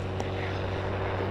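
Helicopter in the mobile game Indian Bike Driving 3D, with a steady, droning rotor and engine hum that holds constant and fairly loud throughout, alone without talk.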